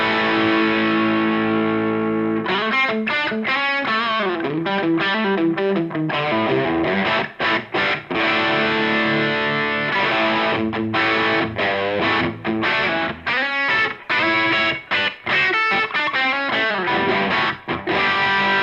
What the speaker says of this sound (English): a bridge humbucker and get some of these kind of crunchy rock tones.